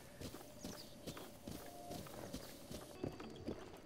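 Horse hooves clip-clop in Zelda: Breath of the Wild, a steady rhythm of soft, evenly spaced game footfalls close by, a couple of sharper thuds near the end, with no talking.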